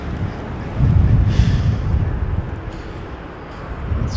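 Gusty wind blows steadily across an open outdoor mound near Harewood Road used for aircraft watching, a continuous low rumbling buffet on the microphone that swells stronger partway through.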